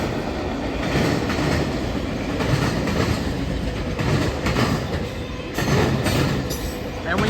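A BNSF freight train hauling box cars rolls past close by, a loud continuous rumble with rhythmic clickety-clack from the wheels and occasional high squeals.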